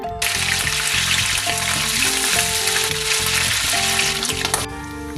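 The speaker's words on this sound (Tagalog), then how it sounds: "Ipiprito ko itong ating sahog." Fatty pork pieces with skin fry in a pan with a loud, dense, continuous sizzle and crackle, heard close up under a repeating background melody and without talk.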